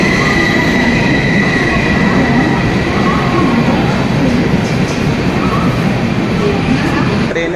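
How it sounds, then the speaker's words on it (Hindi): Delhi Tejas Rajdhani Express train pulling into a station platform, a loud continuous rumble of rolling carriages with wheel squeal and clatter close by. "तो भाई जो ट्रेन है वो आ चुकी है।"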